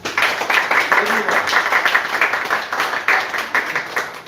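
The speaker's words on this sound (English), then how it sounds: "A round of applause for everyone." An audience at a business and banking consultancy event claps, uneven clustered clapping from a room of people with voices talking over it.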